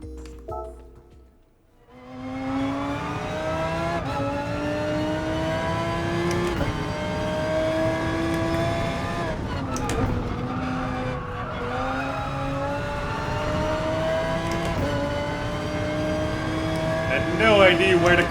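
A race car in Gran Turismo Sport accelerates hard out of a corner, its engine rising in pitch through the gears with a brief tire squeal, loud and continuous throughout.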